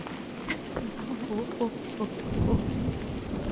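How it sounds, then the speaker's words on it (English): Rain and a low rumble of thunder in the Scottish Highlands hiking game A Highland Song, with the thunder swelling to a deep roll midway through a steady background of falling rain. "I wonder if the rain has an effect of making things a bit more slippy"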